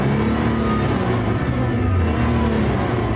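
A Nissan GT-R engine on a factory test bench starts for the first time and runs loudly and continuously, with a deep, steady drone and slight revving throughout.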